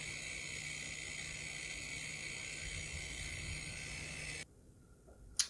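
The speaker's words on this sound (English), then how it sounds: "Now we're picking up the fan noise again." Steady broadband whir with a faint low hum from a PC's cooling fans under load while running Warzone, continuous and fairly quiet for about four seconds before dropping away, then a short click near the end.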